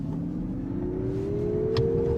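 A Nissan Ariya e-4FORCE electric SUV accelerating hard from a standstill, its motor whine rising steadily in pitch over a dull road rumble, heard from inside the cabin without talk.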